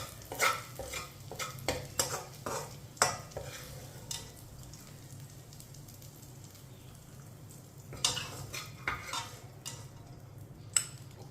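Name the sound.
stirring cooked sweet vermicelli with a spoon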